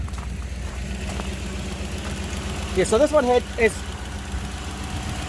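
A Toyota 1UZ V8 swapped into a two-wheel-drive Hilux pickup and run on Megasquirt idles with a steady, close, low rumble while someone talks briefly over it.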